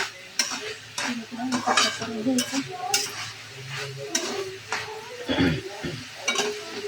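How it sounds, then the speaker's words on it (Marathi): Repeated scraping and clinking of a spoon stirring dry-cooked moth beans in a pan, with a soft sizzle underneath, close by and steady, no talking. "झाकण काढून असं हलवून घ्यायचं."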